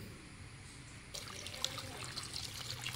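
Water poured into a cooking pot for fish sinigang, a steady trickling splash that grows brighter partway through, close and moderately loud with no talk.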